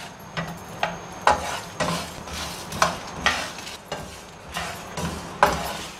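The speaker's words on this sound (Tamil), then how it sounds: "இப்போ இந்த மல்லி சோம்பு சீரகம் எல்லாம் பொரியும் பாருங்கள், சத்தம் வரும்" Coriander, fennel and cumin seeds dry-roasting in a hot pan, stirred with steady, evenly spaced scrapes and a light crackle running underneath.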